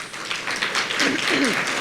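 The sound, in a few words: audience applause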